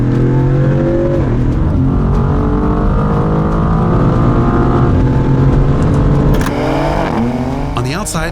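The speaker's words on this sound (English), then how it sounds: "It may not sound like a V8, but Dodge's 6 sounds great." A Dodge Charger six-cylinder muscle car engine revs and accelerates with a smooth, rising growl, loud and steady, shifting gears near the end.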